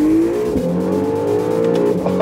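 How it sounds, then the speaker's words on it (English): Honda NSX supercar on a race track, engine revving hard and accelerating with a loud, close, steady tone that climbs in pitch and briefly dips at a gear change, with no voices. "We needed to get behind the wheel of some supercars."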